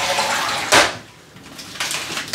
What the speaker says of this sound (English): Now I'm gonna flush.